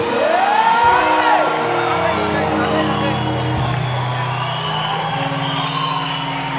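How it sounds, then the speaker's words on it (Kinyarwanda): A crowd at a live gospel concert in Rumonge whoops and cheers, with shouting voices rising over sustained music and a loud, continuous roar throughout. "amashyi menshi kuri Yesu."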